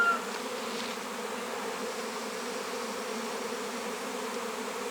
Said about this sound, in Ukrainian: Бджола просто спускається з неба.